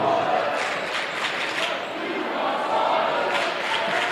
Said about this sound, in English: Here the fans cheering, kind of egging on their players out there